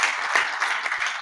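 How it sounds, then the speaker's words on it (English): An audience at a New York launch event applauds as a CEO returns to the stage, a short, soft burst of many hands clapping heard from a distance. "Another round of applause for Jim."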